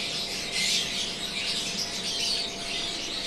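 A dense chorus of birds in an aviary chirps and squawks continuously, busy and close, over a steady background hum from extractor fans.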